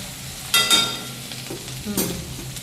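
Ginger, garlic and chili paste frying in a pan while being stirred, soft sizzling under a few sharp scraping strokes of a spoon, close and moderately loud.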